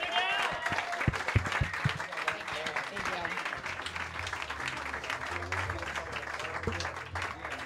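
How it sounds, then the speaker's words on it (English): A crowd at a comedy roast show applauds loudly and continuously with dense clapping, joined at the start by shouts and cheers, then settling into sustained applause. "Clap it up as loud as you can for Alex Engelbert."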